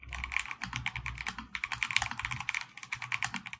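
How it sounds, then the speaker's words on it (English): Rapid, steady keystrokes on a Melgeek Mojo 84 mechanical keyboard, close and crisp, with a continuous run of clacky presses and no voices. "For my keyboard, I use the Mojo 84 by Melgi, and this is definitely my favorite keyboard right now."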